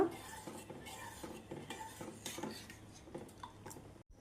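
A spoon stirring milk as it cooks in a pot for malai cake, making soft, repeated scraping and clinking strokes against the metal, quiet and close, with a brief thump near the end.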